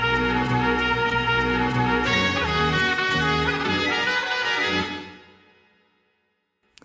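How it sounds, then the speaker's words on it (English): A brassy trumpet-like sample plays layered held notes with rhythmic accents, then fades out into a long decaying tail. "We have this kind of trumpet sample that sounds like this."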